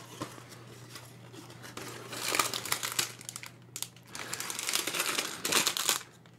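Packing tape being pulled and peeled off a cardboard box during an unboxing, crackling and ripping in several close bursts with short pauses between.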